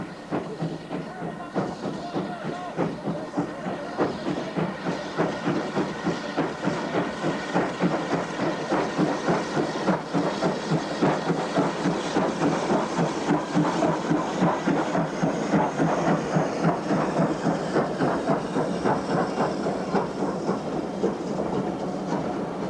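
A CWD 2-8-2 steam locomotive of the Indian War Department, hauling a train on a Pakistani branch line, runs past steadily and fairly close, with continuous rhythmic wheel clatter and hiss that holds loud for the whole stretch.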